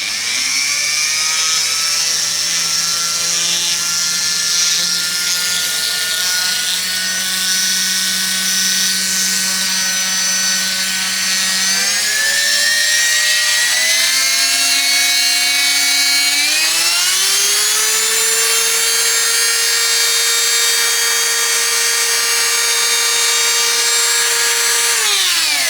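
A small electric motor spins up from 10,000 to 32,000 RPM, giving a loud, steady high-pitched whine that rises in two distinct steps and holds at the top speed, with no voices over it.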